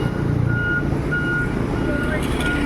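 A road roller reverses during a highway upgrade entering the town proper, giving repeated short beeps over a steady low engine and traffic rumble, with voices talking nearby.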